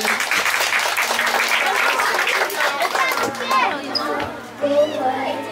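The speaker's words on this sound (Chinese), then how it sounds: "掌声鼓励鼓励" Dense clapping fills a primary school graduation ceremony in Changhua, loud for about three seconds and then thinning as voices and a busy crowd take over.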